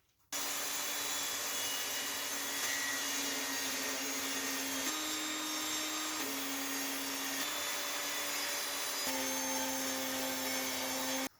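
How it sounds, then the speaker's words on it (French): An electric saw trims the edges of a wooden shelf board for a display cabinet, running as one loud, continuous motor whine for about eleven seconds, its pitch shifting slightly in steps as it cuts, with no voices. "je vais recouper les bords comme ça avec ma super scie pour que ce soit tout bien lisse"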